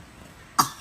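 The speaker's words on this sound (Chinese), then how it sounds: "你一直咳嗽怎么办？" A child gives a single short pretend cough, quick and breathy, standing alone after a moment of quiet.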